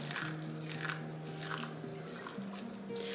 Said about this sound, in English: I'm just gonna put a couple handfuls in and just break them up